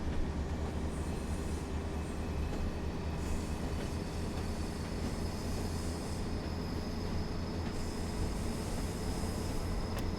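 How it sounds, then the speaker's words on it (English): Pacer train in Train Sim World 4 on the Blackpool branches in snow, wheels squealing round curves: a sustained high-pitched metallic whine over a steady rumbling roll of the carriage, heard from inside, with no talking. "I think that squeal as it's going round the corners is really good."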